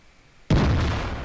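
A tank gun fires in World of Tanks, a replay featuring an SU-152 or JagdPanther II against an IS-3: one abrupt, loud boom out of quiet, followed by a deep, rumbling roar that lingers.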